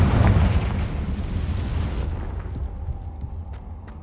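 A Confringo blasting spell explodes in a video game, giving a loud, close, rumbling boom that rolls off and fades over a few seconds, with faint debris ticks at the end.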